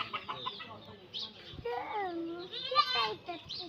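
A hen clucking close by in short bursts while someone talks nearby.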